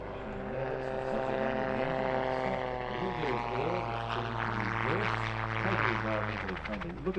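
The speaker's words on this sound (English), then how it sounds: "the Calidus can cruise quite comfortably at 100 miles an hour and also decelerate to just 20 miles an hour" A Calidus autogyro flies low at the Midlands Air Festival airshow, its engine and rotor drone loud and sustained with the pitch rising and falling as it passes, while an announcer talks over it.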